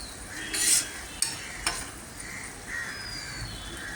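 A spoon stirs ghee through a pointed gourd (potol) curry in a pan, giving a few soft scraping strokes and light clinks over a low, steady sizzle.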